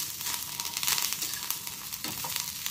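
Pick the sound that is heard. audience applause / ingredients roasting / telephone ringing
ingredients roasting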